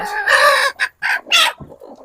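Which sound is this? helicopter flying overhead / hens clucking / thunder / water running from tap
hens clucking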